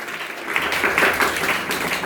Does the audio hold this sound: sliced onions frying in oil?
no